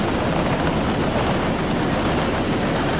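Trains running on rails in the city-builder Workers & Resources: Soviet Republic, a steady, loud, broadband rumble of rolling wheels and wagons with no pauses.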